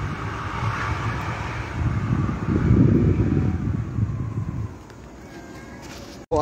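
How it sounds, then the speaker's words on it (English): Steady wind rushes past high up in a clove tree, swelling louder in the middle before easing off, then a sharp knock right at the end. "Quite windy."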